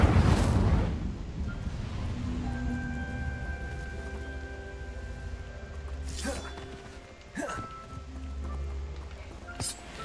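An Incendio fire spell bursts in Hogwarts Legacy with a loud roaring whoosh at the start, fading into a low rumble, followed by a few sharper crackling bursts later; a voice talks over parts of it.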